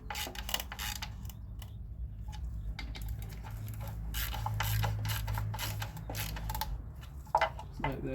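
A 1/4 inch ratchet snugs down valve cover bolts on a Kia/Hyundai 2.0L or 2.4L engine, making a steady run of light clicking and ratcheting, close up and fairly quiet.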